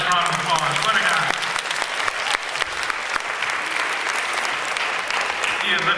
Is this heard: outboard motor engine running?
no